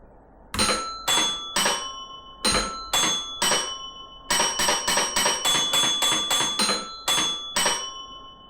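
Bells ring out Hot Cross Buns, clear bright strikes in three-note groups, a fast run of eight quick notes, then a final three, close and alone.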